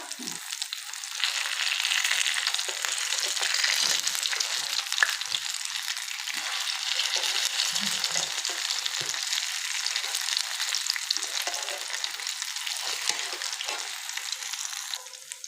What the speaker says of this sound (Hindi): अब इसको हम इस तरफ से अच्छी तरह फ्राई करके फिर पलटेंगे।